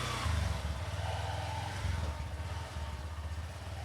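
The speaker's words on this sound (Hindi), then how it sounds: "तो ये स्टार्ट हो गई है बाइक" A motorbike engine, just started, runs with a low rumbling putter that swells briefly as it revs and then settles into a steady idle close by, heard alone without talking.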